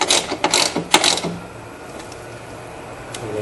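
A ratchet wrench tightening a car battery terminal bolt, a quick burst of sharp clicking pawl ticks in the first second, then fading to quiet room tone.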